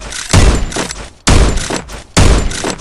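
Winchester shotgun in the game Free Fire firing three loud, close blasts about a second apart, each with a heavy thud and a short fading tail.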